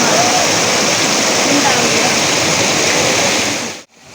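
Water pours steadily over a small check dam in a continuous loud, broadband rush, close by and unbroken for about four seconds before cutting off abruptly.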